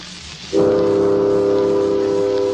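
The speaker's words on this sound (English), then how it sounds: "There's the train. Did you hear the whistle?" The Oriental Limited steam train's whistle blows one long, steady chord-like blast that starts abruptly and holds strong over a low background rumble, at the Cascade Tunnel dedication.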